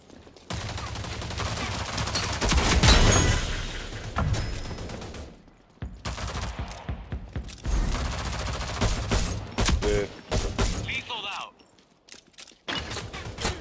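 Bursts of rapid gunfire from a video game, with fusillades that rise and fall over several seconds and short gaps between them, while players talk over the shooting.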